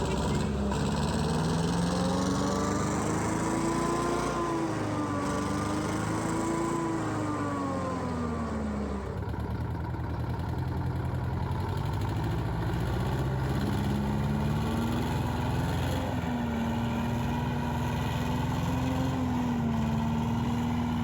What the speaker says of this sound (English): at the end of the day, it does run. Runs and drives. Doesn't sound very happy though, Bob.